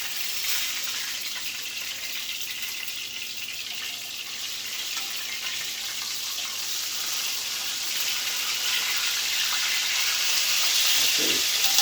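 Fish pieces frying in a hot oiled pan for Jamaican brown stew fish, a steady dense sizzle and crackle that continues unbroken, slowly growing a little louder, with no talking.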